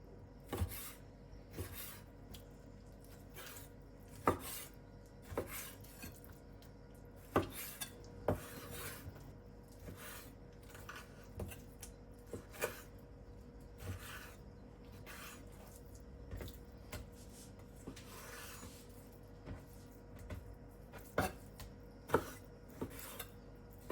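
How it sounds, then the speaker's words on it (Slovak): A knife cuts pork shoulder into 2-3 cm pieces on a board, with irregular knocks and scraping taps spread through a quiet kitchen, some close and sharp and others soft. "Bravčové pliecko nakrájam na asi 2-3 cm kúsky."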